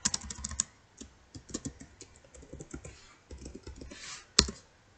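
Keys clatter on a computer keyboard as a command is typed into a MySQL/LAMP server setup on an AWS EC2 instance, quick bursts of clicks with short pauses and one sharper tap near the end, close and alone.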